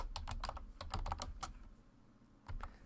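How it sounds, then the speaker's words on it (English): Brief run of close keystrokes on a computer keyboard while typing a chapter heading in a word processor, quick irregular clicks followed by a short pause and a final few taps. "So I'm going to type chapter 1."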